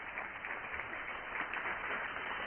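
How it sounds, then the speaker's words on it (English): A conference audience applauds with a dense, even patter of clapping that holds steady for a couple of seconds, moderately loud and filling the room. "let's give him one more round of applause"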